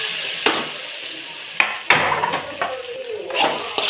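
Dried ivy gourd (kovakkai) sizzles in hot oil with spluttered mustard seeds, under a steady frying hiss broken by several clattering stirs of a spoon against the pan.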